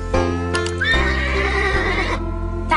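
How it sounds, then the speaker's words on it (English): A loud, close horse neigh, a rising then trembling whinny lasting a couple of seconds, over a steady electronic hum. "That's a horse."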